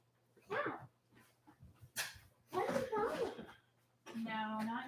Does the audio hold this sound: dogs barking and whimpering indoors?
yes